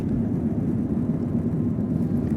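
An airplane flies over Hulhule island in the Maldives. Its engines make a steady, continuous low drone that stays even throughout, with no voices.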